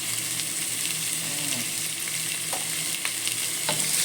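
Bitter gourd and black beans fry in a pan, a steady broadband sizzle with a few light clinks of a utensil stirring, continuous and close with no voices.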